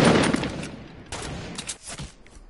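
Rapid gunfire bursts ring out in a video game as a player shoots at a cube, with several clustered volleys of shots over about two seconds and no talk.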